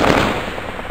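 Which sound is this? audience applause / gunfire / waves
gunfire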